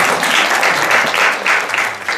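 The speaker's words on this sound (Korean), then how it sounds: "박수." Applause from an audience at a university department information session, loud dense clapping that rolls steadily through the whole moment without a break and tapers only slightly at the end.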